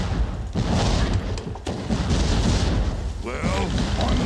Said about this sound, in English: Ooh, cannons.